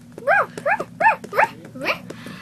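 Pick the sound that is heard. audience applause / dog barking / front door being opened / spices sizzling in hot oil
dog barking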